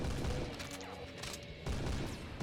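Enemy gunfire in the Doom Lithium mod: rapid, overlapping shots in a steady fusillade, with layered game noise and a brief dip before the firing resumes.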